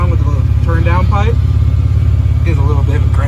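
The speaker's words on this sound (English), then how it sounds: "I got the Summit Racing glass pack going" A truck engine idles with a deep, throaty exhaust rumble through a Summit Racing glass pack muffler that stays steady throughout, while people talk over it.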